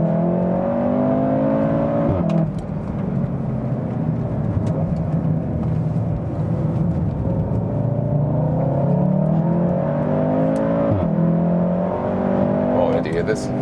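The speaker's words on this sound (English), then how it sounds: "This is a so-called DSG fart. When shifting, the car is burning some additional fuel" A 310 hp AWD Volkswagen Golf R engine drones and climbs through gears on a racetrack, with quick sharp exhaust pops at each DSG upshift; a voice talks over the engine.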